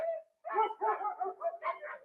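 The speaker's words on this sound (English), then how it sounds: "this is what it sounds like with barking dogs going on in the background with the Modmic 2" Several dogs barking and yipping in a quick, uneven series close to the microphone, recorded through an Antlion Modmic 2 headset mic, with no one speaking.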